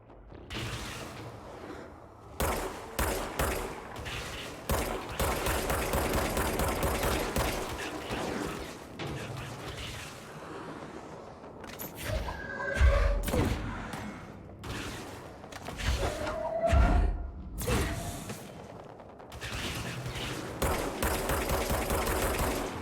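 Gunfire in the video game Control, dense bursts of rapid automatic shots and single cracks in irregular clusters, loud and close, with quieter gaps and occasional mechanical tones between volleys.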